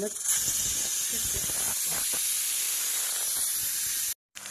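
A kitchen pressure cooker releases steam in a loud, steady hiss for about four seconds, then cuts off abruptly into silence.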